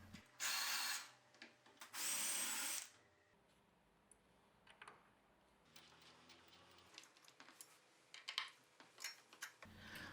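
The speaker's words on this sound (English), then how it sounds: "I screwed the 3 metal brackets to the pine board using black hex lag bolts" A power drill drives black hex lag bolts through metal brackets into a pine board, in two loud, sustained whirring bursts early on, followed by quieter clattering and handling noises.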